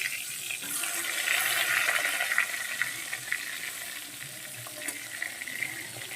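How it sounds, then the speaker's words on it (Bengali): Eggplant pieces fry in a pan, a soft, steady hiss of oil that swells slightly and then settles, with a few faint clicks and no talking. "আগে বেগুনগুলো ভেজে নিই"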